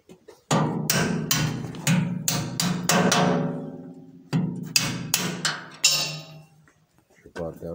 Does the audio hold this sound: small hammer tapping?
yes